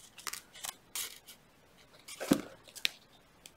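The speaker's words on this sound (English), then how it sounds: "Just make a real clean inside cut on both of those." Wire cutters snip jewelry wire on a wire-wrapped heart pendant, giving a few sharp, close clicks spread across a few quiet seconds amid faint handling noise.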